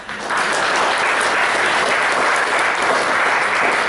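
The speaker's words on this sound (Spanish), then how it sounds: "recibimos con fuertes aplausos al magíster Stephen McNabb" Strong applause from an audience welcoming a speaker at a university lecture, a loud sustained roar of clapping that swells quickly and stays even throughout.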